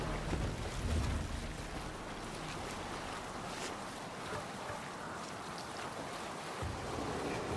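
Water washes steadily around a sailing longship in Assassin's Creed Valhalla, a continuous surge of waves and wind with a brief heavier swell near the start, no voices.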